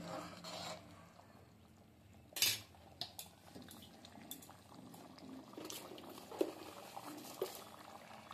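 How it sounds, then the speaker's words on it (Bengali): Mung dal cooked with a katla fish head bubbles quietly in a pot on a gas flame, with faint simmering and a few light clinks of a spoon against the pot. "এই দেখুন ডালটা ফুটে উঠেছে"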